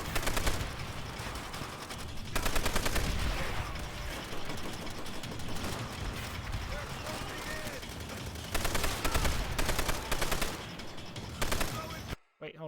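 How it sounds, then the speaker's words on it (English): A Browning M1919A4 air-cooled machine gun in Call of Duty: World at War fires long, rapid, loud sustained bursts broken by brief pauses, with other distant battlefield gunfire behind them. "This is a Browning M19, M1919A4, air-cooled machine gun"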